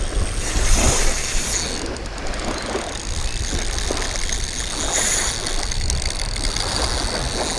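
Wind and waves on the shore of a big lake during summer bank fishing, a constant rushing roar with wind buffeting the microphone and waves washing in steadily, loud and close with no talk.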